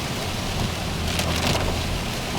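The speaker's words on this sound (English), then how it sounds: "Listen to this rain." Heavy rain pouring down, a dense, continuous wash of drops drumming on surfaces nearby, loud and steady with a slight swell midway, no voices.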